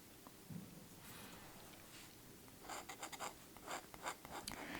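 A dip pen with a metal nib, loaded with blue ink, scratches across paper in short quiet strokes, with a faint steady scratch early on and then a close cluster of rhythmic scritches, and no voices present.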